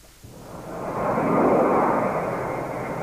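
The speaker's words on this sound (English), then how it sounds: "the roar of American planes taking off from Riyadh Air Base" Roar of American military planes taking off from Riyadh Air Base during the 1991 Gulf War, a loud jet rumble that swells after a quiet start and holds steady.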